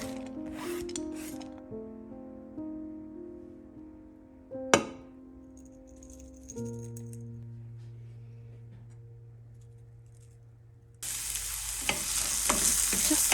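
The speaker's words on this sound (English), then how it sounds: "Chop them up into small pieces and fry them in a little olive oil with salt and" Finely chopped leeks fry in olive oil seasoned with salt and black pepper; a soft sizzle sits under steady musical tones before a louder, brighter crackle bursts in over the last couple of seconds.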